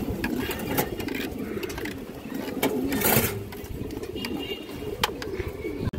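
Pigeons, including an old-bloodline Bagha female, cooing repeatedly in a loft, soft throaty coos over a constant mechanical whir with scattered clicks and flutters nearby.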